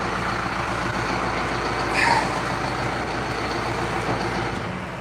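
A tractor hitched to a seeder idles with a steady low engine rumble nearby, continuous and unbroken.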